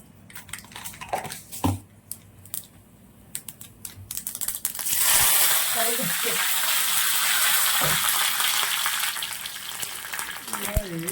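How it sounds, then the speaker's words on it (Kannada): Mustard seeds hit hot oil for a tempering while a cucumber pachadi is made, breaking into a loud, sustained sizzle after a few quiet clicks and handling sounds, with a little talking alongside. "ಎಣ್ಣೆ ಹಾಕ್ತಾ ಇದ್ದೇನೆ ಈಗ ನಾವು ಒಗ್ಗರಣೆ ಕೊಡಲಿಕ್ಕೆ."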